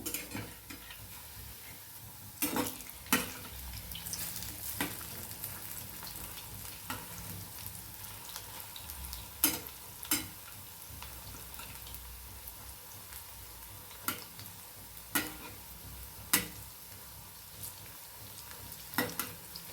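Matki dal bhajis deep-frying in hot oil, giving a soft continuous bubbling sizzle punctuated by scattered sharp clinks and scrapes of a utensil against the pan, with no talking.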